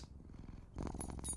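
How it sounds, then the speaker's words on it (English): Cat purring as an audio drama effect, a soft rhythmic purr that swells louder partway through the brief moment, with no voices. "Someone's done something to my poor little kitty"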